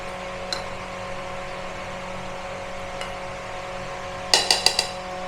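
Mihidana and boondi being mixed with sugar syrup in a metal dish, a few sparse clinks and then a quick cluster of sharp utensil taps near the end, otherwise quiet.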